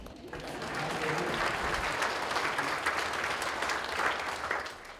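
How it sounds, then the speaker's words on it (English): Applause for the mayor and city council at a State of the City address in River Falls rises within half a second into a full, steady round of clapping from a large room that continues for several seconds. "Applause for my bosses"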